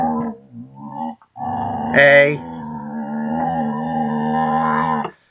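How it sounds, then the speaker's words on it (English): A small pet dog lets out a long wavering howl that breaks into growling, with a brief sharper yelp midway. A person briefly calls out at the start. "She's such a little irritating dog sometimes."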